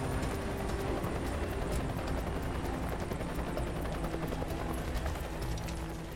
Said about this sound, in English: the helicopter lifts a second person from the river